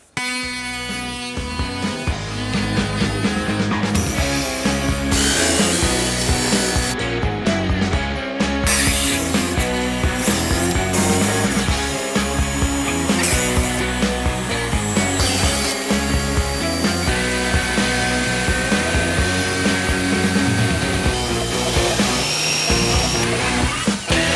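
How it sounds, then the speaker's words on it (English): A loud buzz saw whines and grinds through wood while cutting open a kitchen section, its pitch shifting as the blade bites, with brief pauses between cuts. "I'm just gonna cut out that little section with the buzz saw"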